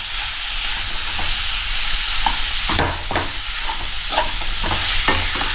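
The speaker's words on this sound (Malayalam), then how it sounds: "ഇതിൻ്റെ മസാല കാര്യങ്ങളൊക്കെ ഒന്ന് പിടിക്കുന്നതിന് വേണ്ടി നന്നായിട്ടൊന്ന് ഇളക്കിയും കൊടുക്കാം കേട്ടോ" Fish being stirred into masala in a pan for olakodian fish curry, a steady loud sizzle under repeated scraping and clacking stir strokes, close and continuous.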